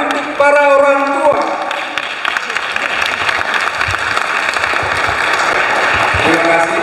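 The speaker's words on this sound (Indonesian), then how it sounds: "mari kita berikan tepuk tangan yang meriah untuk para orang tua" A crowd applauds the parents at a high school graduation ceremony, a steady loud wash of clapping that begins after a brief voice and continues throughout.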